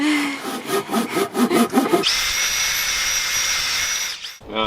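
A handsaw cuts through a 2.5-inch piece of black locust wood in quick rhythmic strokes, then gives way to a steady, bright whine of a tool running continuously before it cuts off abruptly.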